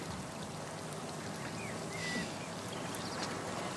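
Water runs steadily, like a burst pipe, as a faint, continuous hiss with no breaks from start to finish.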